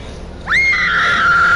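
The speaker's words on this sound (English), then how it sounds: "My screams are better than hers." In the horror video game Until Dawn, a woman lets out a sudden loud, sustained scream that rises and then holds for about a second, cutting in after a quiet start.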